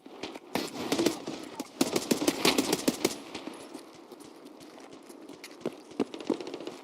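Full-auto gunfire in Escape from Tarkov rattles out in dense rapid bursts, loudest through the first three seconds, then thinning to scattered shots over a quieter background.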